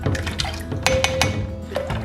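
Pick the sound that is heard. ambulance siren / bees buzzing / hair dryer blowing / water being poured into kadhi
water being poured into kadhi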